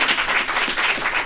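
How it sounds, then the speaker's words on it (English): Studio audience applauds a talk-show guest named Ken, dense steady clapping filling the whole moment at moderate loudness with no voices over it. "everybody clap it up for Ken"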